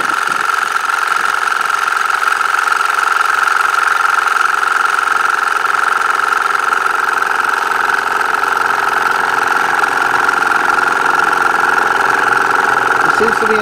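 A 12V Audew dual-cylinder portable air pump runs steadily while inflating a car tire, giving a continuous close mechanical hum and rattle that holds an even level throughout with no pauses.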